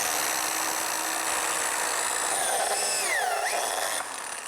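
A plate joiner cuts a slot in wood with a loud, steady high whine that briefly drops in pitch as the blade bites in, then recovers and eases off near the end.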